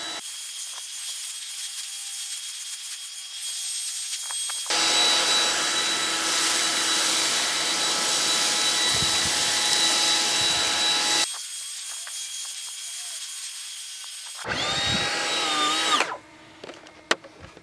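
Stihl battery-powered leaf blower running in loud bursts, a high airy whine that cuts in, holds steady for several seconds, stops, then returns briefly, close to the microphone with no voices.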